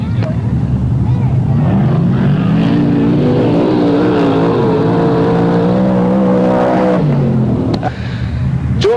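Sprint cars racing on a speedway, a loud sustained engine roar from a pack of cars that swells and shifts in pitch across the run, with no clear talk over it.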